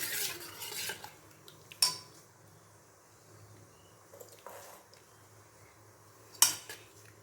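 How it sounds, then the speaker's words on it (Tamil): A metal spoon scrapes and clinks against a pot while vegetable biryani is folded together, with a few sharp knocks standing out over a low, quiet background; no talking. "இதை அப்படியே மிக்ஸ் பண்ணி வச்சாச்சு"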